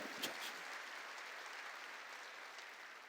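A church congregation claps during a sermon, a dense, even patter of many hands held at a steady level, with a couple of sharper claps at the start and no speech over it.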